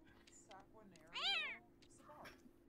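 A cat in The Sims 4 meows clearly in the middle, a rising and falling cry standing out over a steady game background hum, with faint voices around it.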